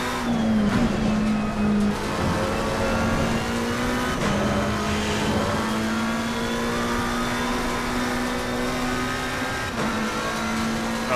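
A McLaren 720S GT3 race car in Assetto Corsa Competizione at Zandvoort holds a steady, loud engine drone, shifting pitch through gear changes, with no talk.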